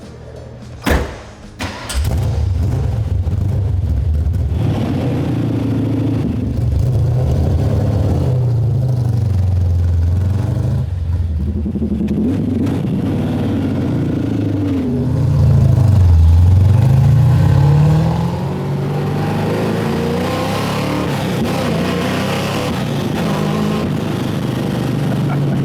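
A high-mileage Ford Mustang, rough-running, rumbles loudly from inside the cabin while being driven, its low engine note rising and falling as it revs, with a stronger surge midway.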